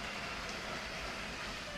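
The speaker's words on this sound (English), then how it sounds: "The train is on its way." A 9V toy train running along its track, giving a steady rolling rumble with a light metallic hum, close and continuous, with no voices.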